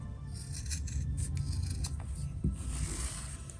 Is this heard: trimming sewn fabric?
yes